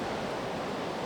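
Ocean waves crash on a beach near an offgrid campsite on Millionaire's Road, making a steady, full roar of surf with no breaks and no other sounds.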